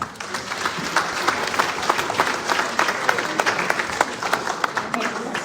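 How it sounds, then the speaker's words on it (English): Steady applause from a crowd at a community breakfast event fills the space, many hands clapping densely and continuously at a moderate, even level. "So everybody please give them a huge round of applause."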